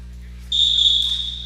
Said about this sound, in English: That's waiting for the whistle. Whistle is good.